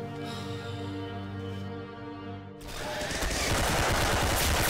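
Video game gunfire: a steady tonal hum gives way midway to a loud, sustained burst of rapid shots that carries on to the end.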